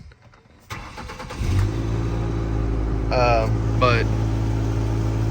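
The 2.3-litre engine of a 2010 Ford Ranger pickup with high mileage is started and then settles into a steady, loud idle rumble, with a brief word of talk near the start.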